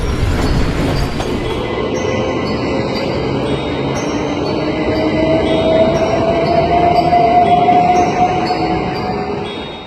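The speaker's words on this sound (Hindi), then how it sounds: "तभी ट्रेन जंगल के बीच में आकर रुक जाती है।" A train running steadily on rails with loud, continuous rumble and wheel clatter, a thin squeal of wheels rising near the end as it slows, heard alone as an animated horror story sound effect.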